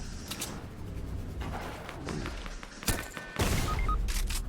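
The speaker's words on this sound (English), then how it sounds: "I just shot this dude in the head" Gunfire in the Fortnite video game, with bursts of rapid shots and sharp impacts scattered over a noisy, busy mix of game sounds, fairly loud.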